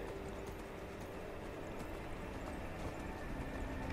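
The horse Shadowmere gallops in the video game Skyrim, with steady rapid clip-clop hoofbeats at a low, even level and no talking.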